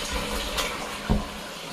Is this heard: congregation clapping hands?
no